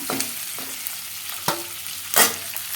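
Food sizzles and fries in a hot pan, with occasional scraping stirs and clatter against the pan, close by and without talk, while sautéing ingredients for an egg curry.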